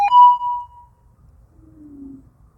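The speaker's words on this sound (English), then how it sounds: "Sorry for the phone notification." A short electronic chime from a phone notification, a bright tone that fades within about a second, followed by a faint lower tone, heard alone without talk.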